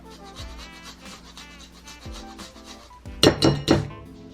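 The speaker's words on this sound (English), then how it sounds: "So I'm just going to grate my ginger." Fresh ginger scraped over a grater in a home kitchen, a few soft rasping strokes followed by three louder, closely spaced scraping bursts near the end.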